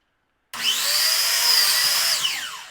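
A power saw cuts a wooden shelf piece to fit a nightstand, starting abruptly with a loud, steady high whine that holds for about a second and a half before the pitch drops as the blade winds down.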